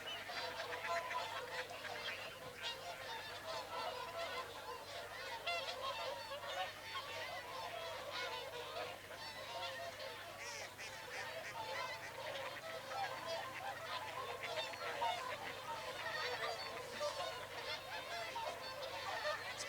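A flock of whooper swans with yellow-and-black bills, family parties with juveniles, calling together, a continuous far-off chorus of honking that stays steady throughout.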